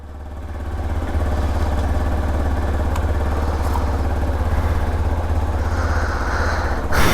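A Hero XPulse 4V Rally motorcycle engine runs steadily after a cold start, a close, loud low idle drone that holds evenly for several seconds before a sharp burst near the end.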